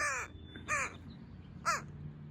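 Crow cawing in three separate harsh calls spaced roughly a second apart, fairly close and clear against a quiet outdoor background with no talk.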